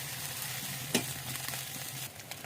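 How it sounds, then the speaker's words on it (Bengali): Spices sizzle in hot oil in a pan and are stirred with a spatula, a close, steady frying hiss punctuated by a sharp scrape, for a Jessore-style taro and Malabar spinach stalk dish. "এবার এটাকে ভালোভাবে নেড়ে চেড়ে দিতে হবে। তবে বেশি ভাজা যাবে না, হালকা করে ভেজে নিতে হবে"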